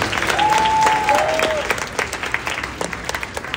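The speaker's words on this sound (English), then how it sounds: "So give yourself a round of applause, guys." A concert-tour audience claps steadily, the applause loud at first and then thinning out, with a whistle or two riding over it.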